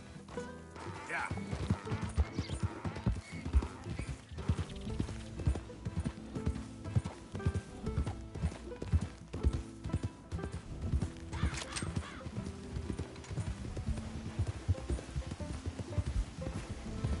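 Rhythmic horse hooves in the video game Red Dead Redemption 2 clip-clop steadily while a voice talks over them at moderate volume.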